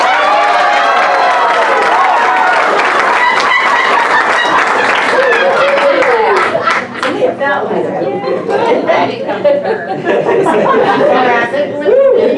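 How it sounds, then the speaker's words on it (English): Loud crowd noise fills a student showcase audience, dense clapping and cheering mixed with laughter and chatter, sustained and close, thinning into scattered claps and voices toward the end. "So can I get your best laughter and applause, please?"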